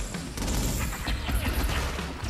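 Gunfire in Infamous Second Son comes as a dense, continuous fusillade of overlapping shots and impacts, loud and chaotic throughout with no pauses.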